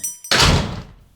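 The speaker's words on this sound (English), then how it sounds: "the door banged open downstairs" A door bangs open downstairs in an audio drama, one sharp loud slam with a quick rattle that decays over about a second, heard alone.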